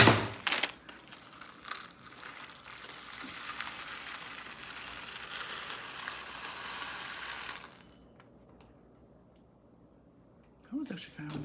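Perler beads pouring from a snipped plastic bag into a bowl, a bright rattling clatter of many small plastic pieces lasting several seconds, then stopping and leaving near silence with a faint rustle at the end.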